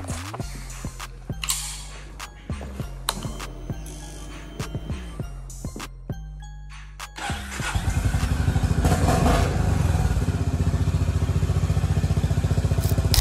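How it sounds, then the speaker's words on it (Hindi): A motorcycle is cold started with a series of cranking attempts and short bursts before the engine catches and settles into a loud, steady running putter close by. "बाइक को ज़रा कोल्ड स्टार्ट कर लेते हैं"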